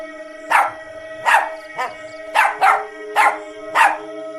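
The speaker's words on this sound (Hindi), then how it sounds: "टफी घर से बाहर निकलता है और चुड़ैल को देखकर भौंकने लगता है।" A dog named Tuffy, confronting a witch, barks about seven times in a quick, even rhythm, loud and close over a faint steady hum, with no talking.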